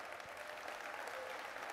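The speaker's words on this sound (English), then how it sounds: "So big round of applause for how customer success has grown." Keynote audience clapping steadily throughout, a broad, even wash of many hands at moderate, somewhat distant level, with a faint voice underneath.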